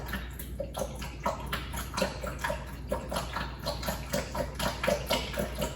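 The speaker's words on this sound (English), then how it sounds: "And all the water come out of the tankless water heaters." Water drains out of a tankless hot water heater during a flush, a steady splashing gurgle with repeated soft drips and pops, fairly close and continuous throughout.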